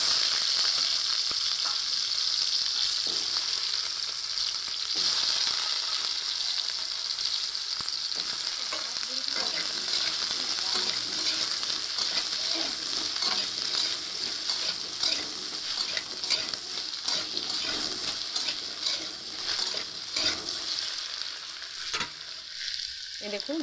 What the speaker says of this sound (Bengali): আলুগুলো আমি ভেজে নেবো ভালো করে।